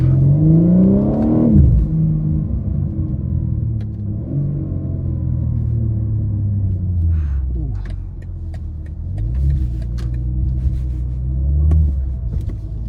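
Heavily modified 1000 hp BMW M4 Competition engine revving on downshifts, a loud, close, deep rumble with rising and falling rev sweeps and sharp blips, plus a few faint clicks near the end.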